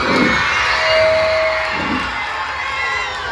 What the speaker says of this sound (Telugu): మీ అందరి కోసం చప్పట్లు కొట్టండి